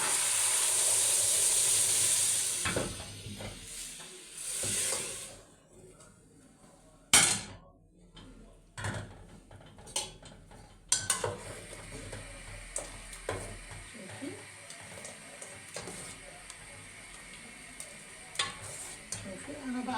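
Onions frying in a pan for Egyptian molokhia, with soft sizzling and scattered stirring clinks and scrapes of a utensil, fairly faint with quiet gaps and a few sharper knocks.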